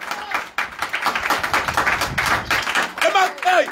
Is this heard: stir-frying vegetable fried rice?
no